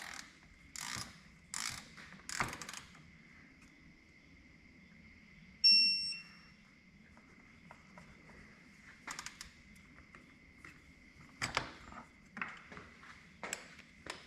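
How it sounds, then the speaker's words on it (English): A torque wrench tightens the differential fill plug on a Polaris Sportsman 850/1000 ATV: short bursts of ratcheting clicks come in several separate runs, with a single metallic ding partway through, close and fairly quiet. "we're going to go ahead and torque this down to 19 foot-pounds"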